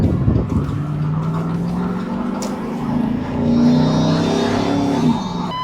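A 2006 Jeep Liberty with a 3.7-litre engine revs while driving, its steady droning hum rising and swelling in pitch as it pulls, loud and close from inside the vehicle.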